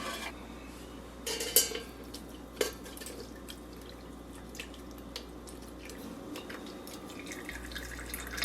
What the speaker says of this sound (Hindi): एक मग लें और इसमें इसको फिल्टर करके डाल लें।